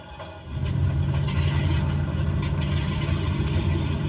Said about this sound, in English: We have the left engine start.